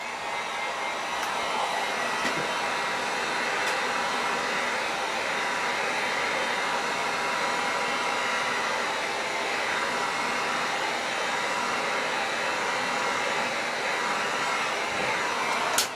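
A steady, loud hair dryer blows continuously for the whole stretch to dry paint on an airbrushed model mask, with no voices over it.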